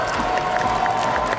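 A crowd at a Call of Duty esports championship at the Esports World Cup applauds and cheers steadily throughout, a dense wash of clapping and shouts with no pause.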